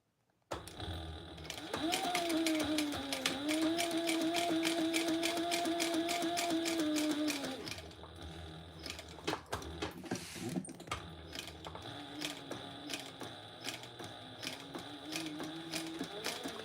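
A sewing machine stitches a seam on a bag, with a steady close whir for about six seconds, then lighter mechanical clicks and a softer run. A faint voice may be present.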